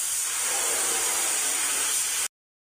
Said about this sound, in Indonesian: Geser pistol semprot ke tempat yang tepat.